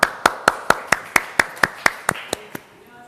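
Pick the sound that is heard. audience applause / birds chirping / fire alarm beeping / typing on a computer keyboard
audience applause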